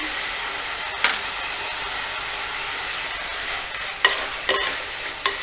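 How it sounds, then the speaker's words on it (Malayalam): Tomato curry with turmeric stirred in a pan: a continuous soft sizzle and hiss with a few sharper scrapes and clinks of the spoon, no voices. "ഇത് നന്നായിട്ട് ഇളക്കണം ഇതിൻ്റെ കൂടെ തന്നെ നമുക്ക് ഒരു ടീസ്പൂൺ മഞ്ഞൾപ്പൊടി ഇടാം"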